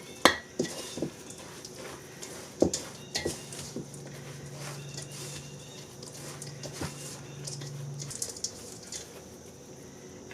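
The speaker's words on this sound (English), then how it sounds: "now we're gonna add our melted butter to it. I'm gonna stir it real good." Melted butter is stirred into a traditional Mennonite dessert mixture in a bowl, giving faint, soft clinks and scrapes of a utensil, with a few sharper knocks, close and quiet.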